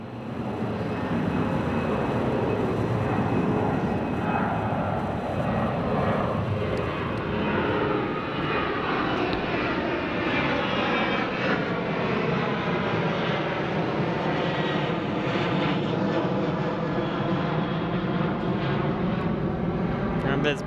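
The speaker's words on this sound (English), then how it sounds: "There's British Airways over here. 787." A British Airways Boeing 787 jet airliner roars steadily and loud throughout, its pitch sliding as it passes overhead at an airport.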